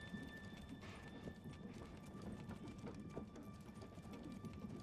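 Horse hooves clip-clop steadily in the Manor Lords medieval strategy game, a soft continuous patter of footfalls at moderate distance over a low ambient bed.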